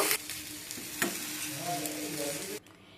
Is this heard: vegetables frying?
yes